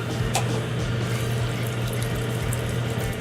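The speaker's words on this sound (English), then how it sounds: "Quite a thick soup. We're going to thin it with some more water." Water poured from a tap or jug into a pot of thick turkey soup outdoors, a continuous splashing, gurgling flow under a low steady hum, with no talk.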